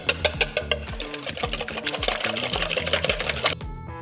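Three eggs and a splash of heavy cream are whisked in a bowl with a fast, steady rhythmic clatter and tapping, close and busy throughout, ending abruptly near the end.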